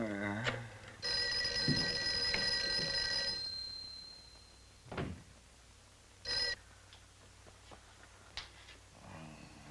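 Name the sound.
telephone ringing unanswered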